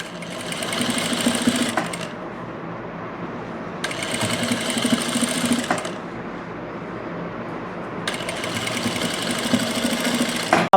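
Domestic sewing machine stitching a loose basting seam on fabric for a sleeve, running in three steady bursts of about two seconds each, separated by short pauses.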